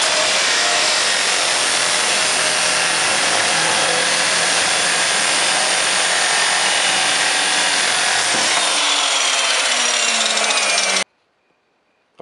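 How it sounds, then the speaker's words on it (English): A chop saw cuts steel stock for a knife blank, a loud, continuous grinding whine held for about eleven seconds, falling in pitch as the motor spins down, then silence. "go ahead and chop it up on my chop saw here"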